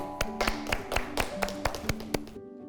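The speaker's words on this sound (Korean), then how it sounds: "박수 한번 주세요." A church congregation claps in a brisk, uneven burst of sharp hand claps that goes on for about two seconds and then stops abruptly. No one speaks.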